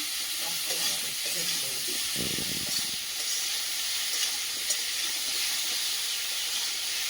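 Food frying in a pan in a home kitchen, a steady loud sizzle and steam hiss running throughout, with a few brief stirring scrapes near the start.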